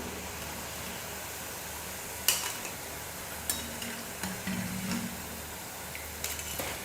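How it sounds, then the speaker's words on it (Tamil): Urad dal bonda fry in hot oil with a steady, faint sizzle and hiss, punctuated by a few sharp clicks and scrapes of a utensil against the pan. "இதே போல் மீதி இருக்கிற எல்லா மாவையும் எண்ணெயில் போட்டு போண்டாவாக செஞ்சு எடுத்துக்கலாம்"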